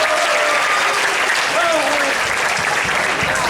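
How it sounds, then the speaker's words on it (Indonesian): Continuous, dense applause from a school crowd at an SMA 6 Isra' Mi'raj celebration, loud and steady throughout, with a few faint voices and whistles mixed in. "tepuk tangan untuk semuanya"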